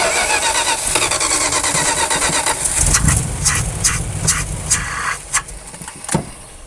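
An abandoned Dodge Power Wagon with an Edelbrock carburetor cranks, then catches and fires in rough, uneven bursts that sputter unsteadily, close and fairly loud, with no talk over it.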